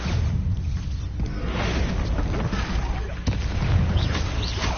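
Bombarda explosion spell cast in Hogwarts Legacy: heavy, booming magical blasts with a rumbling low end, a sharper impact near the middle, all fairly loud and close.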